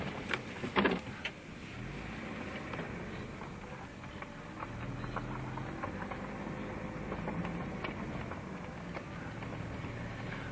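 A 1982 Jaguar XJ6 Series 3 rolls slowly along a driveway, a steady low rumble with soft gravel crunch and light ticking running continuously throughout, moderately close.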